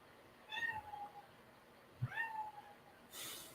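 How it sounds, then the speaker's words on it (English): A cat meows twice, two rising-then-falling cries a second or so apart, fairly close, followed by a brief rustling hiss. "Then there's the cat again."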